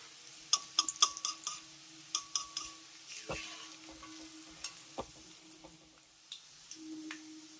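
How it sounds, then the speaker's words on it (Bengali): Potato bhujia, thin fried potato strands, cooking in hot oil, with soft sizzling beneath repeated sharp clinks and taps of a utensil against the pan or wok, then a brief low scrape near the end. "এই যে বন্ধুরা আমার প্রথম ব্যাজের আলু ভুজিয়াটা ভাজা হয়ে গেছে"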